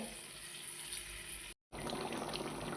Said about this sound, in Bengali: এবার জল দিয়ে দেবো, দিয়ে ভালো করে সেদ্ধ করে নেব